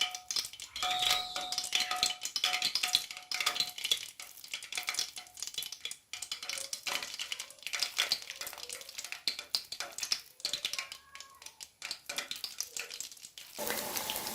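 Hand-dropped onion pakoras fry in hot oil, a steady close sizzle and crackle with bubbling bursts that swell and ease irregularly, faint chimes sounding now and then.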